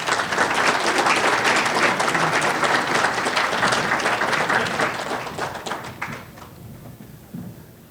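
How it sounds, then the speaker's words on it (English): Sustained applause from an awards-night audience at a sports hall of fame ceremony, loud and dense for about six seconds before thinning into scattered claps and fading near the end. "Let's give John and Matt another round of applause"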